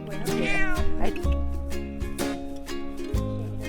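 A cat meows several times in a row outdoors in São Miguel, Azores, loud and close, with drawn-out, wavering cries that rise and fall.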